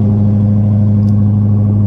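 A Lamborghini engine idles after a cold start, a loud, steady low rumble that holds evenly throughout, with no voices.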